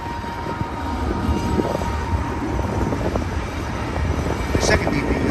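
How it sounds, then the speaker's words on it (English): A BNSF manifest freight train with multiple locomotives rolls westbound past Sullivan's Curve near the old Cajon depot site, giving a steady low rumble and grinding roar that holds at an even level throughout. "got a nice manifest freight train"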